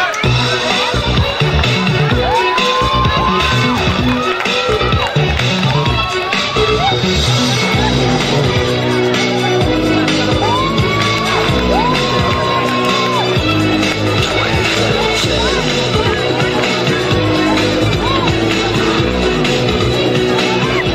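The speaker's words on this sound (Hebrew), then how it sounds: "קבלו בהרבה מחיאות כפיים" Loud school Purim show audience cheering and shouting as a dense crowd roar, with whoops and yells rising above it throughout, continuous and close.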